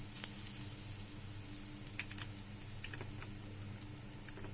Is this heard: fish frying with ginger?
yes